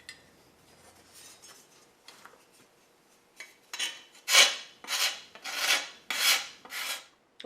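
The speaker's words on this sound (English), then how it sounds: "you can see where I'm starting to take some of the metal off." A file rasping metal off a corroded lawn mower blade, faint scraping at first, then five or six loud, close, rhythmic strokes, each a harsh grinding sweep.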